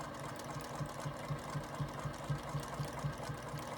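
A sewing machine stitches fabric edges down with a steady fast rhythmic clatter of regular needle strokes, close and fairly quiet, with no talking.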